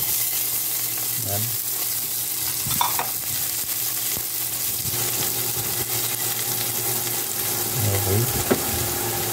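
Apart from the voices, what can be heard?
chopped garlic sautéing in a pan for salmon sinigang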